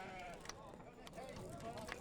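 Sheep bleat in short, scattered calls amid the steady murmur of a busy livestock sheep market in Jalal-Abad, with people talking nearby throughout.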